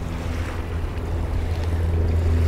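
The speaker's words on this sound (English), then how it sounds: "And you can see the waves slapping on the shore," Lake waves wash and slap against a rocky shore on Toronto Island, heard as a steady low rushing surge with some wind rumble, fairly loud and continuous, with no speech.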